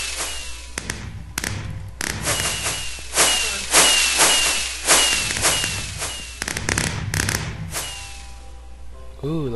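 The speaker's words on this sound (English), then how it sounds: "Dad has fireworks." Minecraft fireworks burst one after another, with sharp crackling pops and thumps at an irregular pace, each rising on a hiss. The explosions are moderately loud and close, with no talking.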